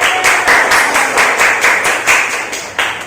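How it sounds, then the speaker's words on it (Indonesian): Schoolchildren in a classroom clap together for a classmate, a loud, fairly rhythmic run of group claps pulsing about three times a second with no voices over it. "tepuk tangan"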